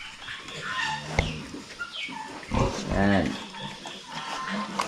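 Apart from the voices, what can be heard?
pig grunting on a farm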